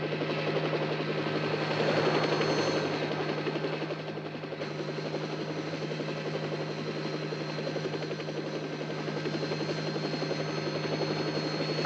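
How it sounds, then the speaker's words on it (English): Helicopter flying over a mountain pass, a continuous loud droning rotor and engine buzz with steady vibration throughout, swelling slightly early on. "We're getting the first reports from the Davos helicopter."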